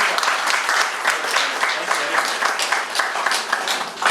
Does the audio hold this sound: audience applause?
yes